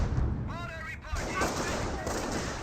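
Rifle and machine-gun fire from a Rifleman squad engaging Panzer Grenadiers in Company of Heroes, dense overlapping shots and rattling bursts mixed with whistling projectiles and game battle noise, with a voice talking over it.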